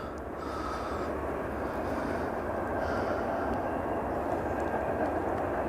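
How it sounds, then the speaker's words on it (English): A train passes far off outdoors, a faint, broad rumbling wash that swells slightly and stays steady in the background, with no speech over it. "There's a train in the background"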